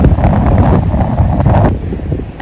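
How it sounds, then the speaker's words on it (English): Strong wind buffets the microphone while kayaking on a lake, a steady broadband roar and rumble that stays loud throughout with gusty swells and no talking. "It's pretty windy out there"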